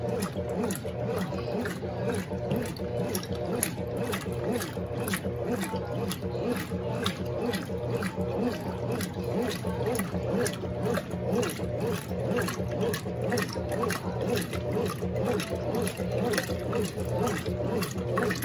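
A Consul Super Cargo CWL10A top-loading washing machine agitating soapy water during its soak cycle, a steady rhythmic swishing and rubbing churn repeating evenly throughout, close and continuous.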